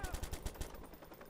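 Rapid burst of automatic gunfire in Watch Dogs, about half a dozen quick shots fading into a muffled tail, fairly faint.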